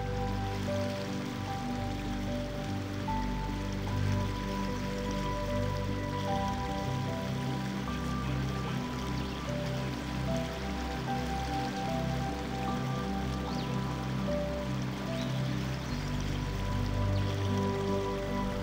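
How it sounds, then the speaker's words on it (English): River flowing steadily nearby, a continuous rushing, burbling wash of water at an even level with no voices. "the sounds of the river"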